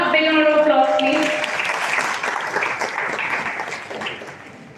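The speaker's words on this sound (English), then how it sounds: "Everyone, a big round of applause, please." At a law college orientation ceremony in Delhi, a voice is heard briefly at the start. Then a large audience of students and parents breaks into sustained applause that gradually softens.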